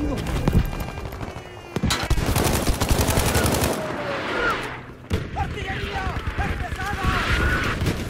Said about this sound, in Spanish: Otra vez artillería, güey.